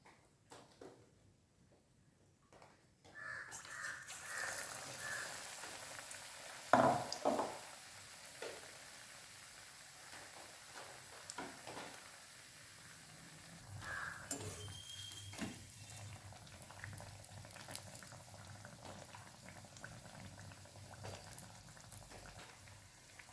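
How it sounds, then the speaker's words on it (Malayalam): Potato chops deep-fry in hot coconut oil as an evening snack, giving a continuous close bubbling sizzle that starts after a quiet opening, with occasional louder pops and light utensil clinks. "അതിനുശേഷം നമ്മുടെ ഈ പൊട്ടറ്റോ എടുത്ത് ഇതിലേക്കൊന്ന് ഡിപ്പ് ചെയ്ത് ഫ്രൈ"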